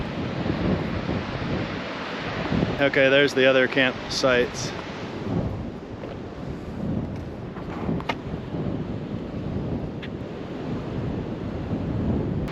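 Ocean waves crash and wind buffets the microphone in a constant roar on a wet, gray Oregon beach at Horsfall Beach, with a person speaking briefly early on.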